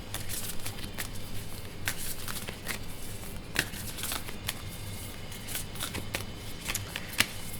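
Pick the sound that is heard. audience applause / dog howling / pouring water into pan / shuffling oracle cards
shuffling oracle cards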